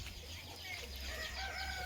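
A mother hen with her newly hatched chicks gives faint clucks and thin peeping calls under a low background hum, with a voice faintly present.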